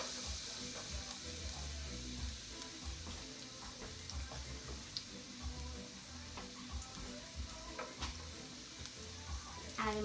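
Garlic fries in a shallow paella pan, a faint, soft sizzle with scattered light ticks and pops heard at low level.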